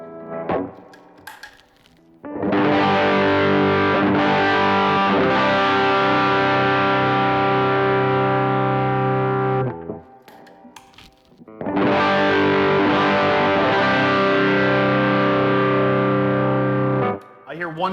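Electric guitar played through Klon and Tumnus overdrive pedals: two long, loud distorted chords ring out and sustain, each followed by brief quieter picking and handling noise between them.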